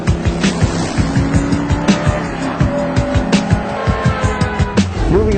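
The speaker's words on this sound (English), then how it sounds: "what vehicle out there actually makes material collect in front of the wheels so you'll stop" A 2008 VW Touareg braking hard with ABS engaged: rapid rhythmic pulsing thumps under a loud, continuous tire skid and road roar, close and steady throughout.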